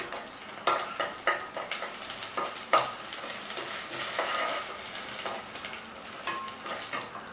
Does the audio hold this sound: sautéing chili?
yes